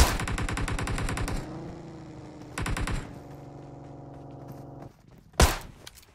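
Gunfire in PUBG Mobile: rapid automatic bursts, loud and near, in two volleys with ringing tails between them, then one sharp single shot near the end, with no voices.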